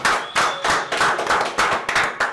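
Applause for a rapper in a radio show studio: a small group clapping in short uneven bursts, close and fairly loud, with no talk over it.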